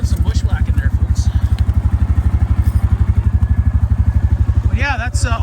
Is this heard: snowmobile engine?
yes